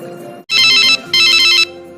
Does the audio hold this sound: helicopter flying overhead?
no